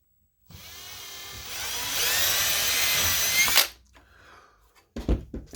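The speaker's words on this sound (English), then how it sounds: "drill the second hole" A power drill whirs up to speed and bores a hole in a hard drive disc for about three seconds, its pitch rising under load, then stops, followed by a few clunks of handling.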